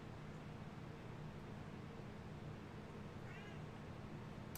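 A domestic cat gives a single short, faint meow partway through, heard over a constant hiss of steady background noise.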